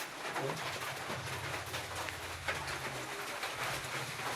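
Pigeons coo in low, repeated soft calls against a steady wash of background noise, with a faint voice now and then.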